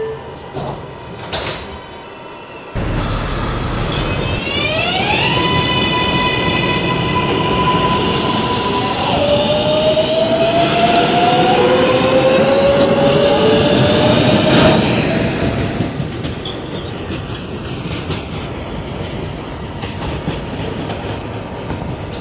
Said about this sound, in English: This is a Manhattan-bound 7 local train.